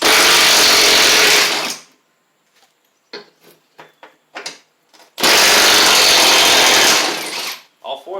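A power tool runs loudly and close in two sustained bursts while taking the spindle bolts off a John Deere D140 riding mower deck. Between the bursts come clanks, metal taps and short voices.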